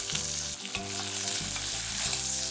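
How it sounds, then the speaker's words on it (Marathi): Steady, loud sizzling of finely chopped onion frying in hot oil for palak khichdi, with occasional clatter of stirring and no voices. "कांदा आपल्याला हलकासा परतून घ्यायचा आहे"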